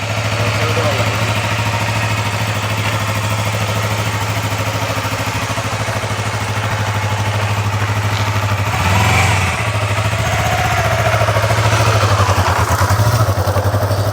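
A motorcycle engine runs steadily and close on a road in Canada, a constant low drone with a slight swell near the middle while people talk over it.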